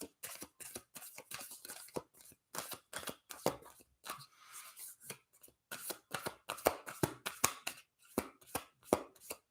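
Oracle cards are shuffled by hand in a steady run of crisp, rapid riffling bursts, up close and loud with short pauses between passes, and no voices.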